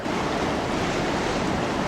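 Floodwater pours over a mill dam waterfall between old mill buildings, a loud, dense and unbroken roar of rushing water that fills the whole moment without any pause.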